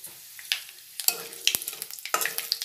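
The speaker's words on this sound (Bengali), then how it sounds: "দেবো তেজপাতা আর দেবো শুকনো লঙ্কা" Bay leaf and dried red chilli frying in hot oil over a medium gas flame with five-spice tempering, giving a steady close sizzle broken by several sharp crackles and spatters, with no talk.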